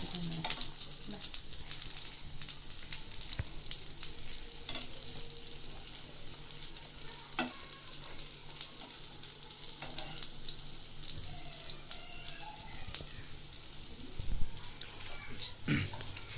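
Chicken cutlets fry in shallow oil, giving a steady bright sizzle that persists throughout, with occasional clicks and scrapes as they are moved or turned in the pan.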